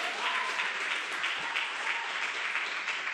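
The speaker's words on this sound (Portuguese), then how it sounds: "Vamos aplaudir bem forte ao nosso Senhor" A church congregation applauds loudly in worship during a sermon, a dense, continuous roar of clapping hands that stays full and even from start to finish.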